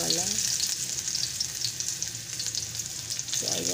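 Onion sautéing in hot oil with coconut cream, giving a continuous bright sizzle with scraping stir sounds and a couple of short tonal squeaks at the start and end, with no speech.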